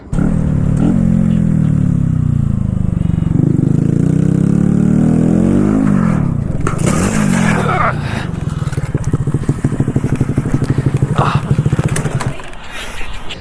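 A 2018 Honda Grom small motorcycle droning at steady revs, then wavering and sputtering as it goes down on a wet road, a loud close engine hum with rising and falling pitch and a clattering scrape near the end.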